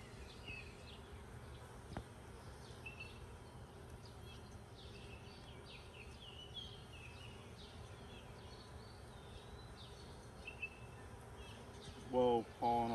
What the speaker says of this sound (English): Whoa, pollen all over that bee.